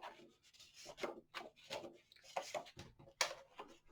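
Paper is scored for a handmade Easter mini album: a quiet, close run of short scratchy rubbing strokes in an uneven rhythm, with no speech.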